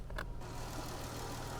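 A car engine runs steadily at an auction-yard walk around, a low, even hum that sounds close and carries no talk.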